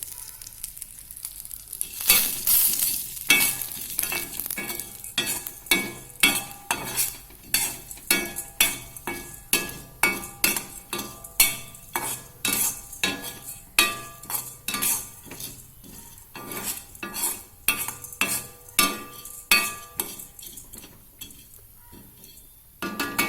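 Dal roasts in a little oil in a pan, with a long series of sharp metallic scrapes and clinks from a spoon stirring against the metal, steady and close over a faint sizzle, and no voices.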